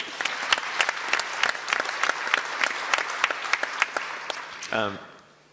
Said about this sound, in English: Round of applause, Jemima.